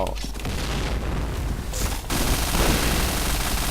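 A grenade blast and rapid bursts of gunfire in the video game Point Blank, dense and continuous, with a deep boom rumbling underneath.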